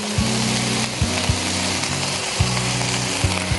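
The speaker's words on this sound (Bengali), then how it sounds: "আর একটু আদা বাটা দিলাম। তারপরে আমি দিচ্ছি একটু পেঁয়াজ বাটা।" Ginger paste and onion paste fry in a pan, a steady close sizzle broken by repeated soft knocks and scrapes of a spoon stirring against the pan.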